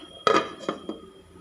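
A metal lid goes onto a cooking pot of simmering koottu curry with elephant yam and vegetables, giving one sharp close clank followed by two lighter clinks as it settles.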